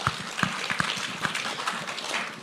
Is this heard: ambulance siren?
no